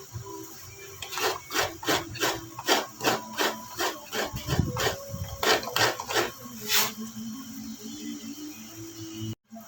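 Coconut meat is grated by hand on a scraper, giving a quick series of about a dozen dry rasping strokes in an even rhythm, close and fairly quiet, with no talking.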